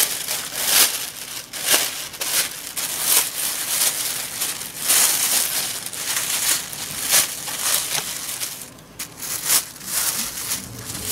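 Plastic bag being turned inside out and handled, close crinkling and rustling in irregular bursts throughout, fairly loud with no talk.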